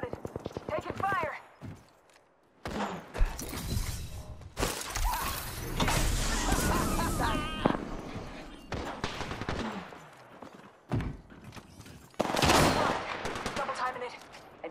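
Bursts of weapon fire in the battle royale shooter Apex Legends, loud rapid volleys and single shots trading back and forth across a firefight, with in-game voice callouts and other chatter between the bursts.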